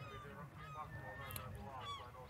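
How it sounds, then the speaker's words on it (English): Seagulls call by the seaside in Finland, their honking, goose-like cries rising and falling repeatedly over a steady low background, moderately near and with no talk. "Maybe you can hear the seagulls on the background."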